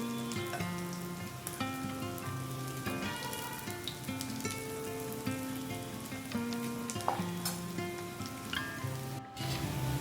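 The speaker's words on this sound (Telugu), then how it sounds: "ఇలా కాలిన తర్వాత ఒక్కొక్కటిగా గిన్నెలోకి" Cabbage pakoda deep-frying in hot oil, a steady close crackling sizzle with soft popping that runs evenly throughout, with faint background music and no voices.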